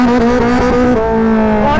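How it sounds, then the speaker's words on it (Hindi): Kawasaki ZX-10R motorcycle on a launch control start, its engine held at a loud, steady high-revving pitch that dips briefly and then climbs again as it accelerates close by. "सो गाइस मैं लॉन्च कंट्रोल ट्राई कर रहा हूँ यहाँ पे"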